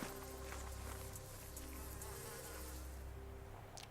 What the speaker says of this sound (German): Scheiß Mücke.